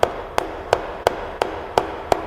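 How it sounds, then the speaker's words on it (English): A chisel is struck repeatedly into wood while carving a Pacific pou, giving seven evenly spaced sharp taps about a third of a second apart, close and crisp over a quiet background. "I'll just start cleaning up with the chisel"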